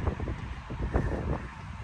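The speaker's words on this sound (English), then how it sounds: "it's so windy" Outdoor wind buffets a microphone, producing low rumbling gusts that swell and fade with no voice.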